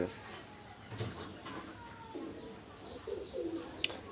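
A Pakistani highflyer pigeon gives soft, intermittent coos, fairly faint against a low indoor background with a few scattered chirps and a sharp click near the end.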